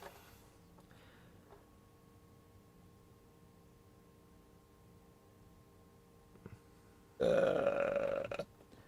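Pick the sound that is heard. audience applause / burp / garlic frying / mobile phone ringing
burp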